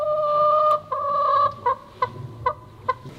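Chicken clucking inside a mirrored maze, a sustained close call followed by a rhythmic series of short, evenly spaced clucks in a quiet room.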